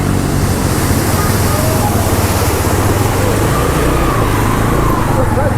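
River water rushing hard around a motorbike during a water crossing on a mountain route, a loud continuous wash of turbulent noise with low rumble, steady throughout.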